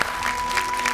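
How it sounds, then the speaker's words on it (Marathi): Brief burst of studio audience applause on a Marathi television talk show, steady and fairly loud through the short moment, with a faint steady tone running underneath. "एकदा जोरदार टाळ्या झाल्या पाहिजे"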